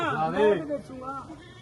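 Goats bleat in short wavering cries, close by, one call after another with a faint busy background at a goat market in Dhanaula, Punjab.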